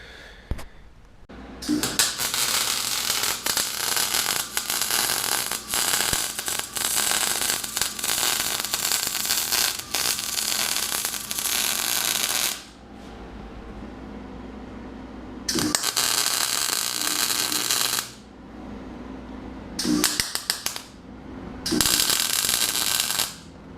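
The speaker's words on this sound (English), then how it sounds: "we're gonna grind that corner off here next so we can get the nut back in there" Angle grinder cutting a corner off a steel four-bar bracket on a dirt late model race car chassis, loud harsh continuous grinding in long bursts with brief pauses between passes, no talking.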